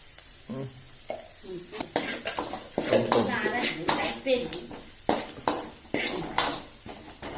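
Egg bhurji being stirred in a pan, a utensil scraping and clinking in irregular strokes over a soft sizzle, close and fairly quiet.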